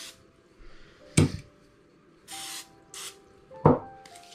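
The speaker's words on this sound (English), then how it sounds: "So I'm gonna go ahead and spray my pans" Short hissing bursts of cooking spray onto baking pans for cinnamon rolls and dinner rolls, about three in a row, with metal pans clanking down between them, close by.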